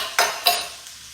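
A spoon stirring pasta in a sizzling pan, two quick scraping strokes over a soft steady sizzle, close and fairly loud.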